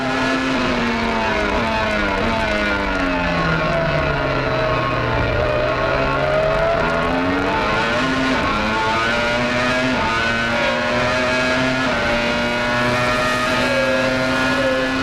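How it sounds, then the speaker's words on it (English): Ferrari Formula 1 car at the 1995 San Marino race in the wet, on wet-weather tyres: a loud, continuous high-pitched engine scream rising and dropping through rapid gearshifts, with other race cars blending in. "See if we can hear the speed of that gearbox in the Ferrari."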